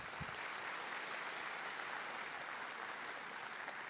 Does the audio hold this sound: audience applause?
yes